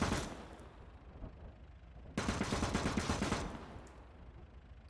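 Gunfire crackles in a WWII Eastern Front battle in the game Call to Arms: a moderately loud, continuous rattle of rapid shots that thickens into a denser burst partway through.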